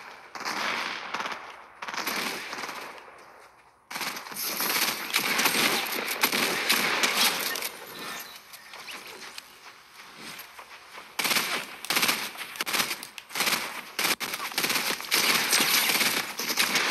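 Rapid gunfire bursts from Fortnite, fast automatic rattling in several loud stretches split by brief pauses and quieter gaps.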